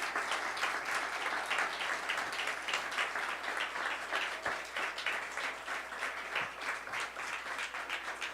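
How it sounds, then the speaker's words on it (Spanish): Applause fills a church as the congregation claps for the Lord, a loud, continuous patter of many hands that stays even throughout without any speech. "Démosle un fuerte aplauso al Señor."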